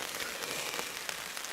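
Rain drumming on a tarp over a hammock camp in the forest, a steady, dense close-up patter with a few slightly louder drops and no voices.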